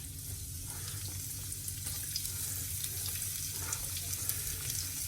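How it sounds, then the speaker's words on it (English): Steady, crackling sizzle of onions frying in hot oil for an aloo gobi cauliflower curry, close and continuous, with faint scraping now and then and no talking. "add the onions, and they will sizzle as well."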